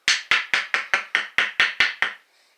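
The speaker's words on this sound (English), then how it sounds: "Just a light tap." Ten light, evenly spaced metallic taps on a piston pin of a Harley 1340 Evo engine, crisp and close, with a short ringing tail after each one.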